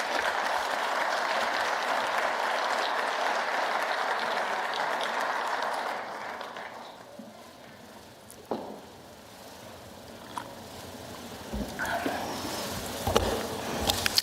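An audience at a 2025 Physician Assistant Program graduation and white coat ceremony applauds to welcome Dr. Amy Phillips, with steady clapping that fades after several seconds into a quieter hall with scattered knocks and shuffles.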